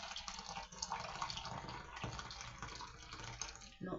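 Freshly boiled water poured from a kettle in a small home kitchen, a steady splashing pour that runs for several seconds at close range.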